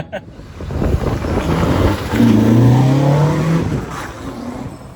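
A 1999 Toyota Carina GT with a 4A-GE engine drives along, its engine note rising in pitch as it accelerates and then easing off, heard from inside the car with some talk.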